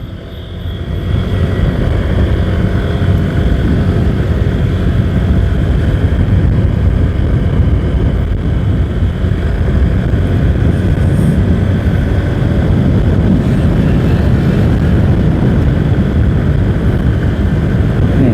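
A Honda Vario 125 scooter accelerates along a town road, its engine a loud, steady drone that rises in from quiet and holds continuously, with wind rush and no speech.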